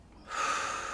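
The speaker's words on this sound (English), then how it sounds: "Breathe in" A deep breath drawn in before playing the saxophone: a brief quiet moment, then a steady, fairly loud breathy inhalation that holds to the end, with no talking.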